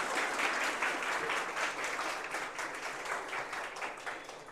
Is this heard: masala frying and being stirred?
no